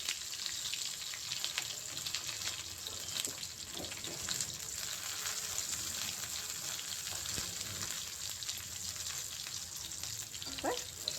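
Shallots sauté with urad dal in hot oil for sambar, a steady close sizzle with occasional spoon scrapes and clinks against the pan, no one speaking.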